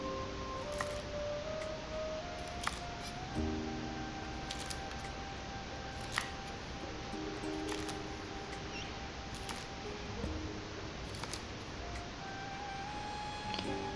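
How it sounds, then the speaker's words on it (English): Garlic bolts being chopped into half-inch segments with a knife or scissors, a run of repeated crisp snips and cuts spread across the stretch under a steady kitchen background hum, with no one speaking. "And then cut them into half-inch long segments."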